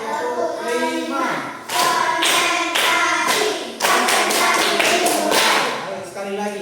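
Fifth-variant tepuk clapping routine for an Indonesian primary-school class, with several sharp hand claps in quick rhythmic clusters amid ongoing singing and talking voices.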